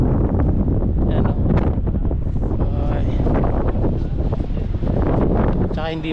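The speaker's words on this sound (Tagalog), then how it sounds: "Tapos ang lakas ng hangin dito." Strong wind buffets the microphone on the Binondo–Intramuros Bridge in Manila, a loud, constant roaring rumble throughout with a voice faintly mixed in.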